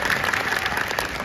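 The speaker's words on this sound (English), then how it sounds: "Nice round of applause for our assistant." An audience at an animal actors show with dogs, cats and birds at Universal Studios Hollywood gives a burst of applause. The clapping is close, loud and continuous, with crowd noise mixed in.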